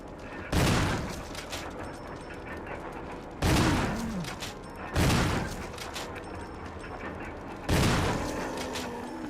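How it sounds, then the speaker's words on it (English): Four loud, booming shotgun blasts from the Resident Evil video game, evenly spaced a few seconds apart, each with a short ringing decay over a low background hum. "So just use the shotgun and you will be okay."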